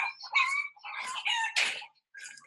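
Chickens on a small family farm cluck in quick, close bursts, several short calls overlapping with brief pauses between, loud and clear with no talking.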